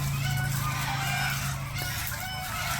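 Backyard chickens cluck and squawk nearby in a household setting, fairly loud and continuous over a low background hum.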